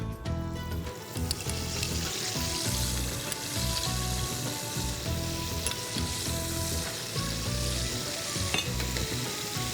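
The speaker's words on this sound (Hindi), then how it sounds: "अब हम उनको वापस जो है पैन में अपने डाल रहे हैं और उनको डबल फ्राई कर रहे हैं" Chicken pieces dropped back into a pan of hot oil for a second fry sizzle loudly and steadily, with rhythmic stirring scrapes and occasional clinks of utensil against the pan.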